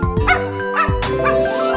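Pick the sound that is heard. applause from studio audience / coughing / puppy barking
puppy barking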